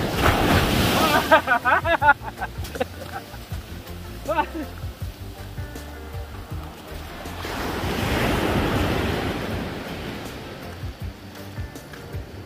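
Waves roll and crash onto a beach at Ciletu, Indonesia, with wind buffeting the microphone; a person's voice is heard early on over the surf.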